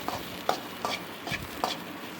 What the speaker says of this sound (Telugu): తర్వాత ఇంకొంచెం ఆయిల్ వేసి చింత చిగురు వేయాలి. చింత చిగురు మంచిగా ఫ్రై కావాలి.